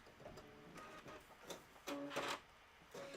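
An embroidery machine stitches Kimberbell accents in quiet, rhythmic whirring bursts with short mechanical pauses, close but faint, with no talking.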